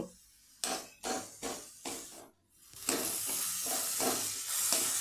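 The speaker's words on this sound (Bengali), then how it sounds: "রসুন শুকনো লঙ্কা এবং সর্ষের তেল দিয়ে এগুলোকে খুব ভালোভাবে খুন্তি দিয়ে ভেজে নেব" Bottle gourd greens frying in mustard oil with garlic and dry chili, a steady loud sizzle broken by bursts of spatula stirring and scraping, with a brief hush partway through before the sizzle swells again.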